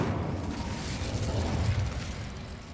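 An Incendio fire spell cast in Hogwarts Legacy: a sustained rumbling, roaring blast of flame, loud and close, holding steady for a few seconds with a low crackling boom.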